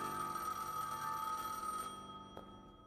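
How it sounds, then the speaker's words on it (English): A telephone bell ringing steadily and faintly for about two seconds, then cutting off with a brief trailing tone. "The phone rings"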